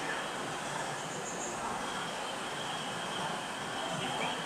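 A TransPennine train rumbles past in a steady, loud broadband roar of wheels and rail noise that holds evenly throughout without talk.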